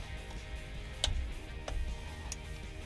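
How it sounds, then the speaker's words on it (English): A torque wrench clicks as it tightens the drain plug on the front differential of a Silverado 1500; three sharp, distinct clicks come at an even pace over a steady low background hum, with no talking. "reinstall the drain plug and then torque it down to 24 foot-pounds"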